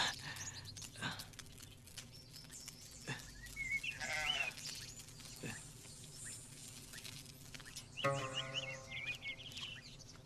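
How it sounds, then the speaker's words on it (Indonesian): A small lamb bleats repeatedly, several wavering cries spread across the stretch with short gaps between them, fairly close and clear over a low background, with no talking. "seekor domba kecil terbaik."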